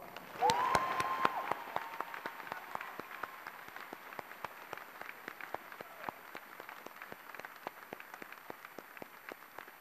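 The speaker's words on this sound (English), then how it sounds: "Let's once again give them a round of applause." A crowd at a university commencement ceremony applauds steadily, many hands clapping at moderate volume, a bit fuller at the start before settling into a thinner, even patter.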